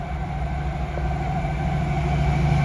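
A Class 70 freight train rolls through a station, its diesel engine giving a steady loud rumble with a constant hum, sustained throughout as the train passes.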